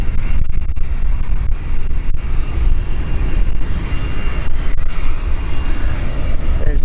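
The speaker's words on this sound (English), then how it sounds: "There's the Cessna." A Cessna light aircraft engine drones near London City Airport, a steady, loud propeller hum that stays constant throughout with no talking.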